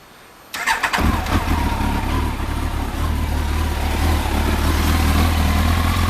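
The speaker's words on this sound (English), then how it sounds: "I'll just start these up and warm them up before I put them away" Honda CBR400RR NC23 motorcycle engines crank and fire up after a brief quiet moment, then settle into a loud, steady warm-up idle with a constant low throb and rough mechanical clatter.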